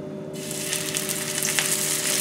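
Brick-pastry triangles filled with minced meat fry in hot sunflower oil, a steady loud sizzle starting abruptly and continuing with crackling bursts throughout.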